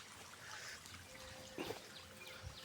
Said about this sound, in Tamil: பாருங்கள் எப்படி தண்ணி பாயுது அப்படின்னு சொல்லிட்டு.